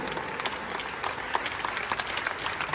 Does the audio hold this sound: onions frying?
no